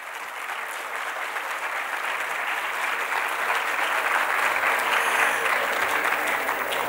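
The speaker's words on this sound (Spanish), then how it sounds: "Vamos a darle un fuerte aplauso." Steady applause from a crowd at a student leadership showcase, building slightly and holding for several seconds, with no talking over it.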